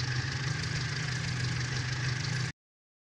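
An Ursus tractor engine idles in Farming Simulator 19, a steady mid-low drone with a constant hum that runs unbroken and fairly close, then cuts off abruptly near the end.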